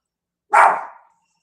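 A dog gives a single loud, sharp bark close by, clipped and trailing off quickly into silence.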